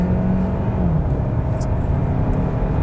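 A 2022 Hyundai Santa Fe hybrid with a 6-speed transmission accelerates from a launch, giving a steady, moderate engine drone heard from inside the cabin with a slight rise in pitch.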